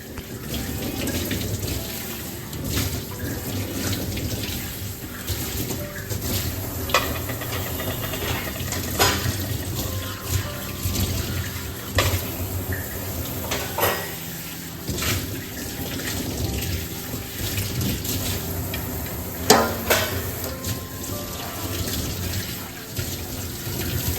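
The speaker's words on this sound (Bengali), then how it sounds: "সিঙ্কে যে বাসনগুলো রয়েছে সেটা এক এক করে এখন মেজে ধুয়ে রেখে দেব" Dishes washed and scrubbed at a kitchen sink, with a tap running steadily and scattered clinks and scrapes of crockery close by.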